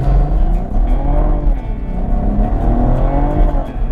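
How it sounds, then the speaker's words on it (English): A 2016 Cadillac ATS-V launching hard with its tires breaking loose despite traction control: a loud, close engine roar climbing and falling in pitch through rapid revs, with rough tire noise underneath. "No problem breaking the tires loose, even with traction control on."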